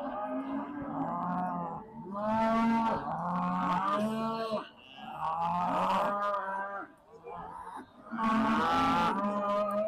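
Beef Shorthorn heifers in a show ring bellow repeatedly and loudly, several long drawn-out moos following one another with brief pauses between them.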